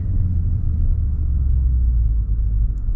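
A 2024 Maserati Levante V8 Ultima's engine gives a deep, steady low rumble at close range, with no talk over it.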